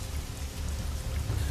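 Heavy rain falls steadily in a forest, a dense, continuous wash of drops with no pauses or talking.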